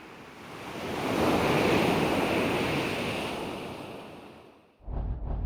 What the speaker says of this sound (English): I also added the sound of water hitting the rocks in the first few shots